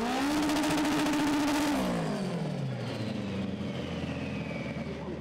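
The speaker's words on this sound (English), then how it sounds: "this is Pete testing on Saturday in his 10-second Renault 5" A front-wheel-drive Renault 5 drag car, a 10-second machine, screams at high revs on a test day at the strip, then its pitch drops as it pulls away and fades into the distance.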